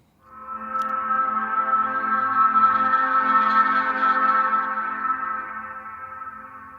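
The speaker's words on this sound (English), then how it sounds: "I've got a saturate button." A sustained chord from a 1960s chord organ swells in and holds steadily for several seconds, thick with harmonics and a gritty, saturated edge, then slowly fades.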